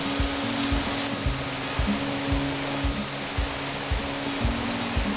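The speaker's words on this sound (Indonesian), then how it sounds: "air terjun Matarutung." Matarutung waterfall on the shore of Tomori Bay, a steady broadband roar of falling water that fills the whole clip at close range, with faint low thumps underneath.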